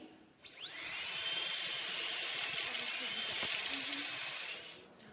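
A dentist's drill whines steadily at a high pitch in a comedy sketch set at a dental office, spinning up sharply and holding for about four seconds with slight wavering before cutting off, loud and close with no talk over it.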